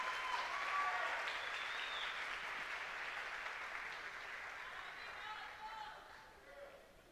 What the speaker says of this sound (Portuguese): Nelsinho e Ju, dê um aplauso ao Senhor pela vida deles, serão os primeiros.